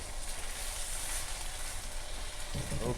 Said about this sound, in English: we're going to cook this down until it's completely caramelized